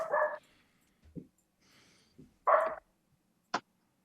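A dog barks a few times somewhere nearby, with short, separate woofs and yips spread out over a few seconds against an otherwise quiet room.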